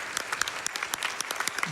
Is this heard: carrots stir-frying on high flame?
no